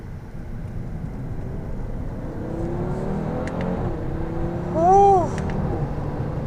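A 2018 Audi TT-RS with a 2.5-liter five-cylinder engine accelerates out of a turn, its engine note rising then climbing sharply in a loud rev burst near the end, with a brief exclamation from someone aboard.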